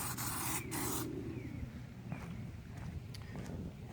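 An aerosol can of Plasti Dip sprays onto a car grille in two quick, loud hissing bursts up close, followed by a quieter stretch of faint background noise and light clicks.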